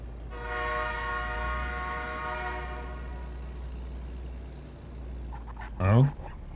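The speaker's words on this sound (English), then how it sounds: "I can hear a train, can't see one." A single long train horn blast from an unseen train rings over a low rumble, fading out, before a brief voice speaks near the end.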